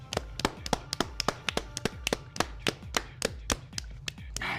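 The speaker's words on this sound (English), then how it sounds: "Let's get a clap." Sharp, evenly spaced single claps sound close by at a live show introduction, a steady rhythmic clapping that runs through the whole clip rather than a dense crowd wash.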